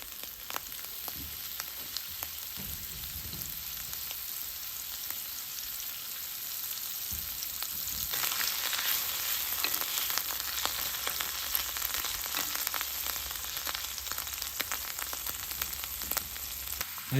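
Chanterelle mushrooms fry in hot bacon grease with a steady close sizzle that grows louder and busier partway through, with occasional stirring and no talk.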